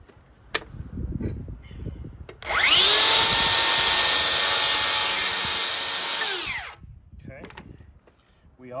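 A power drill bores through a wooden panel for an arcade cabinet coin door, one loud sustained whine lasting about four seconds that spins up and winds down, with quieter handling clatter before and after.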